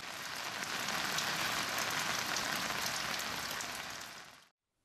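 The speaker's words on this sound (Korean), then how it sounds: "메마른 대지를 적셔주는 말 그대로 단비다" A tropical squall pours heavy rain onto dry ground on Matupit Island, Papua New Guinea, making a dense, loud, steady hiss of drops that fills the air, then cuts off abruptly near the end.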